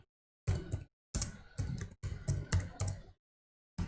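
Code being typed on a computer keyboard, bursts of quick close key clicks separated by short pauses, fairly quiet with no talk.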